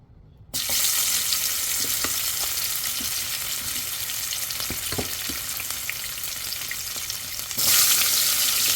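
Turmeric-coated dried fish (shutki) fries in hot oil over high heat, a loud, steady sizzle that starts abruptly and continues throughout, with occasional stirring clicks and a brief surge near the end.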